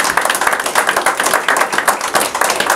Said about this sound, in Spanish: ahora sí, otro aplauso.